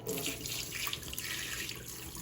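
Kitchen sink faucet pouring tap water, a steady loud rushing hiss that runs unbroken throughout, with no talk.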